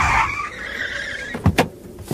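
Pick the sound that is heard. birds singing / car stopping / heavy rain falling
car stopping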